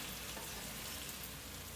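Spanish meatballs frying in a pan, a steady dense sizzle close by with no voices.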